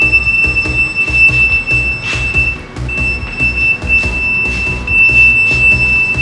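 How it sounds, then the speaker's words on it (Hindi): A handheld hidden spy camera detector in a hotel room sounds its alarm, a steady high-pitched electronic tone held almost continuously, loud and close, with faint background noise beneath. "ये हर जगह अलार्म बजा रहा है"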